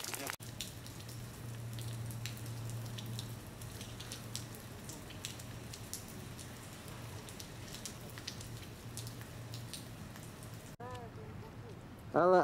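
Soft, steady patter of rain on a surface in San Diego with a low hum underneath, continuous throughout, ending with a brief rustle.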